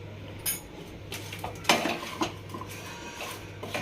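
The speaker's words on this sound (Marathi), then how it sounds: "आता छान आपण मिक्स करून घेऊया." A spoon stirring a sweet pickle mixture with turmeric in a pot, producing a few scattered metallic scrapes and clinks against the pan over quiet background hum, no talking.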